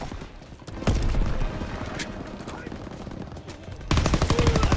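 Video game gunfire while shooting enemies coming over a wall, loud bursts of rapid shots with brief lulls and a heavy burst at the end, with a voice speaking over parts of it.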